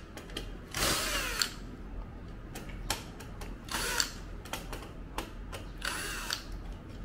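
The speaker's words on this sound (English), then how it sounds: "You also have to use the tools to take the screws off." Hand tools and a small driver taking screws out of an IGS fish game board, close ratcheting and whirring bursts with clicks and rattles between them, fairly quiet, no talking.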